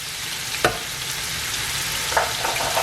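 Garlic and pancetta sizzle steadily in a frying pan, a loud, continuous hiss with a couple of brief stirring scrapes and no voices.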